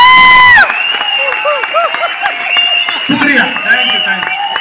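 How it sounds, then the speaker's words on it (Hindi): Crowd at a success celebration event in Delhi erupts in loud, sustained applause and cheering with whoops, after a brief musical sting at the start; voices shout within the dense clapping throughout. "भीड़ इतनी है, ताली सबने बजाई है"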